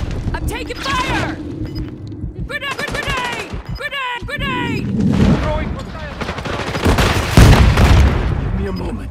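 Rapid gunfire rattles through a Call of Duty Modern Warfare III battle in loud, repeated bursts mixed with heavy booms, while voices talk throughout.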